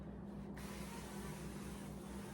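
A soft, steady hiss of an avocado oil cooking spray can being sprayed, close by, with faint background noise.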